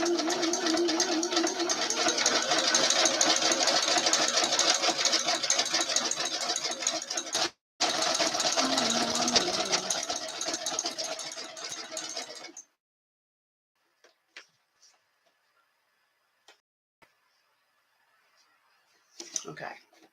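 A sewing machine stitches a fabric edge with an overcast presser foot, a fast, close mechanical whir that runs for several seconds, breaks briefly, resumes, then stops, leaving quiet clicks and faint handling noise.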